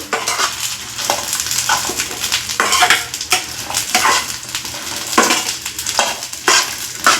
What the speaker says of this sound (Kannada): ಈ ಥರ ಮೆಣಸಿನ್ಕಾಯನ್ನ ನೀಟಾಗಿ ಫ್ರೈ ಮಾಡ್ಕೋಬೇಕು ಕಲರ್ ಚೇಂಜ್ ಆಗೋರ್ಗು